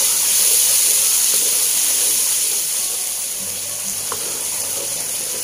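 Spice paste sizzling in hot oil in a pan, with a steady close hiss throughout that eases slightly after the first few seconds, no talk.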